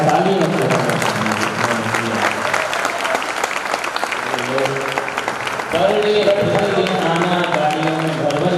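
An audience at the Jain Mandir in Paithan, Maharashtra claps for the youth in loud, sustained, dense applause, with a voice speaking over it throughout.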